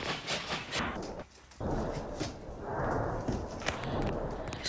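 A steam locomotive in a train and rail yard simulator game chuffs in a loose, rhythmic series of rough bursts over a rumbling background, with a brief dip partway through and a few sharper clanks.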